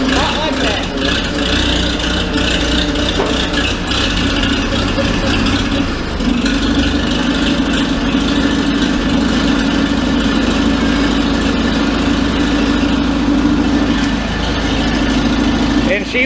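Oliver 66 tractor engine idling smoothly, a steady low throbbing tick that carries on unbroken, heard up close with a person talking over it.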